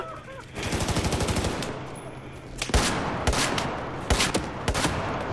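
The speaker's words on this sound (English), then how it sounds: "Oh shit, I'm getting shot at." Automatic rifle fire rattles in a long burst in a Battlefield 4 Rush match, then a few heavy single shots and short volleys follow. The gunfire is loud and close amid constant battlefield noise.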